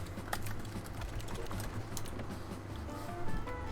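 A computer keyboard being typed on or shifted across a desk, quick close clicks and taps in irregular bursts over a low steady hum, with no talking.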